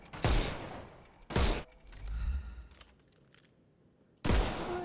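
Gunfire in a Sherlock Holmes video game: three sharp, loud shots spaced a second or more apart, with a rumbling, scattered tail between the second and third.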